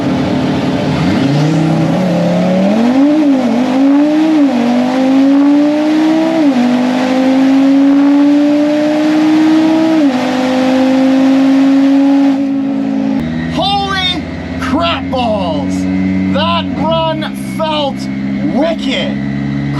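An 800 hp Audi RS3 roars through a quarter-mile bracket drag run, its engine note climbing through several sharp gear shifts before easing off; loud and close throughout, with voices and other engine noise taking over near the end.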